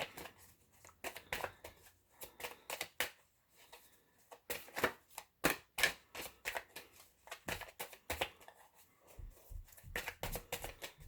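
Tarot cards shuffled and drawn by hand, rapid riffling flutters and crisp slaps in irregular bursts with brief pauses, close and fairly quiet.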